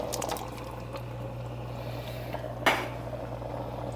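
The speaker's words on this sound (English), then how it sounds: "so it's boiling now, so I'm going to pour in my tomatoes" A campfire chili pot bubbles at a steady boil with a low hum, then one brief splashing pour of whole peeled tomatoes lands near the end.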